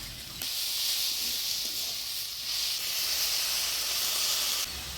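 Water poured into a hot pan of fried potatoes with chili and onion bursts into a loud, sustained steam hiss that stays strong for several seconds before cutting off abruptly near the end.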